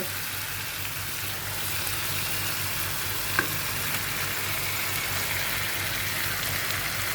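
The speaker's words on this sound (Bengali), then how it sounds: "এখন আমি মাছটা দিয়ে দিব" Fish added to fried spice masala in a pan while cooking an iftar meal, a loud, steady hiss of frying that runs throughout with one brief clink partway through.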